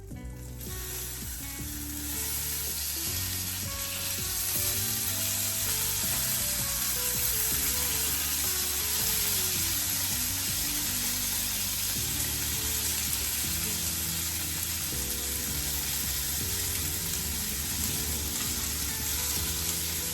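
Chopped medium-sized tomato frying in a hot pan with oil, a loud, steady sizzle filling the whole stretch with light stirring clinks underneath, no voices.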